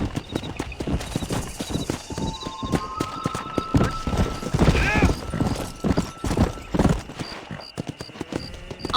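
Horse hooves clip-clop at a steady gallop in the Red Dead Redemption video game, with rapid rhythmic hoofbeats close by, a whinny partway through, and a voice speaking over the riding.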